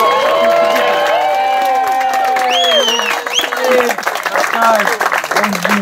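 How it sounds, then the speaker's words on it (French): Audience applause and cheering in a large hall during a wedding-anniversary celebration (noces de sable), loud and dense, with several voices whooping and calling out over the clapping throughout. "je pense qu'on peut les applaudir quand même. Allez, fort."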